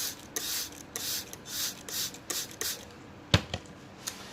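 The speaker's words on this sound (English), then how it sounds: "Spray some water." Several short hissing sprays of water from a spray bottle onto germinating seeds in a container, irregularly spaced, close by, followed by a couple of soft taps and rustles.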